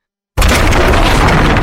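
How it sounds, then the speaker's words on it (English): Wooden support beam cracking in a sound effect, a sudden loud burst after a brief silence that holds as a dense, roaring crash to the end. "A support beam cracked."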